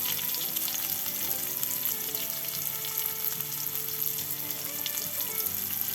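Chopped onion fries in a pan for green tomato bhaji, giving a steady, even sizzle throughout, close and moderately quiet, without any voices.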